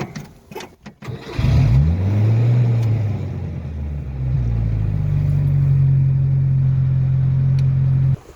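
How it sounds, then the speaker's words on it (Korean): A farm machine such as a tractor cranks and fires up after its battery terminals are cleaned, then settles into a steady, loud, close idle that runs until a sudden cutoff near the end. "기동 한번 걸어 볼게요"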